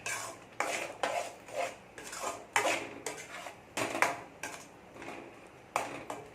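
A spoon stirs gongura dal in a metal pot, scraping and clinking in a steady rhythm of close, distinct strokes with no voices.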